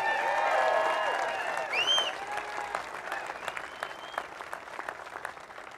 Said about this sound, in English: We want to give a big round of applause for the Boise Police Department